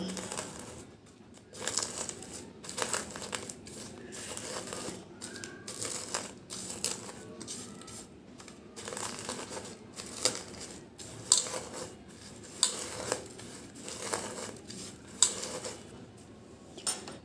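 Dried chilies ground with salt to a fine paste for a spicy bhorta, heard as repeated scraping and clinking strokes at a steady working rhythm, moderately close and fairly quiet, with no talking.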